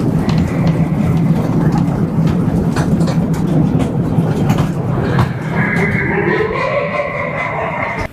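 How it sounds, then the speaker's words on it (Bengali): Amusement park bullet train ride at Dream Holiday Park rolling into a tunnel, a loud continuous rumble with rhythmic clatter of wheels, then an echoing hollow tone and rising squeal as the ride enters the enclosed passage. "আর এই বুলেট ট্রেন রাইড যদি আপনারা এনজয় করতে চান"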